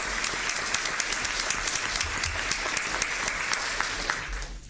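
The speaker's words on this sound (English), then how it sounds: "Let's give them a round of applause." An audience at a county commissioners court session applauds honored five-year employees, a dense, even roar of clapping that holds steady for several seconds with no talk over it.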